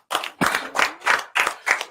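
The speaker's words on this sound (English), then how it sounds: "Give him a round of applause." A small group claps for a podcast guest in a few distinct bursts, close and fairly loud, each burst separated by brief gaps.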